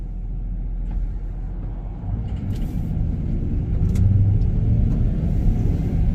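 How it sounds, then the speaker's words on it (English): An old Ford truck drives by on a rural Georgia back road in fall: a low engine rumble builds steadily and grows louder toward the end, heard without talk. "I guess we better wait on this old Ford truck."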